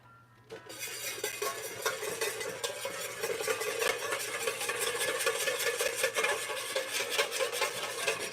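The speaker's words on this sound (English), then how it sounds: "Let's whisk our eggs." Eggs whisked in a bowl, rapid rhythmic clinking and swishing of a utensil against the bowl that keeps going throughout, close and fairly loud over a faint low hum, no talking.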